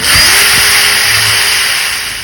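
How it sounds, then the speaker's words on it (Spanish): A loud DeWalt power drill with a DeWalt bit whines steadily at close range for a couple of seconds, a high continuous motor drone with a brief low thump at the start, drilling while installing an electric fence. "Yo estoy utilizando un taladro Dewar"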